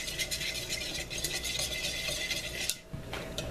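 Olive oil being stirred into a Caesar salad dressing: a continuous close swishing and light clinking of a utensil against a bowl, steady and fairly quiet, with no talk.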